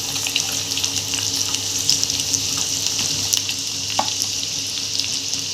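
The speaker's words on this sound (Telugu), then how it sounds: "వెల్లుల్లి రెబ్బలు పచ్చగా దంచినటివి, ఎండుమిర్చి కట్ చేసినటివి, కరివేపాకు, జీలకర్ర, ఆవాలు, ఇవన్నీ నూనెలో బాగా వేగాక" Crushed garlic cloves, cut dried red chillies, curry leaves, cumin and mustard seeds frying in oil for a home-style tomato pickle, a steady close hiss of sizzling with occasional faint pops and a light clink.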